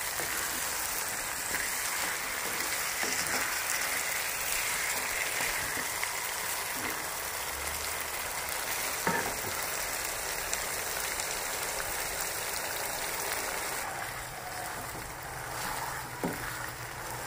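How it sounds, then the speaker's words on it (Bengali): Large chicken pieces sautéed with spices for Patiala chicken give a steady, close crackling sizzle that runs unbroken for the whole stretch, with no talking. "আমি চিকেনটা ভালো করে কষাতে থাকবো।"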